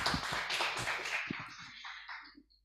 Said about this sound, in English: Another round of applause, please, everybody.